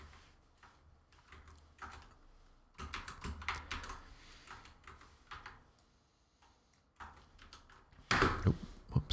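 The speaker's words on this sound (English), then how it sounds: "I just slammed my mouse into the side of my keyboard." A computer mouse slammed into the side of a keyboard during a gaming session, landing as a sharp, loud knock near the end among scattered soft keyboard clicks and desk taps, close and quiet overall.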